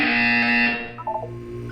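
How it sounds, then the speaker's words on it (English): A loud, harsh electronic buzzer from the video game Portal 2 blares continuously, shifting into a lower, wavering buzzing tone toward the end, with no talking. "You will hear a buzzer. When you hear the buzzer, look up at the ceiling."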